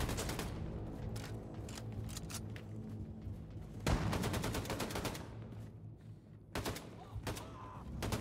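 Armor-piercing gunfire in the game Wolfenstein: The New Colossus comes as rapid, loud bursts of close shots, with a short pause and then renewed volleys.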